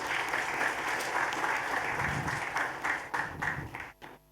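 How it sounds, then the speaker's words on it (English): A conference audience applauds, dense sustained clapping filling the room at full strength before thinning out and stopping near the end. "So I invite you to give them a loudest, heartfelt applause for setting up this conference"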